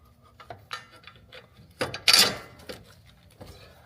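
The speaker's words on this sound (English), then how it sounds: "Slip your 24 millimeter bolt in." Metallic clinks and scraping as a 24 mm bolt is slid into a car control arm on a 2026 Ford Explorer ST, a few close taps and rubs with one sharper ringing contact midway.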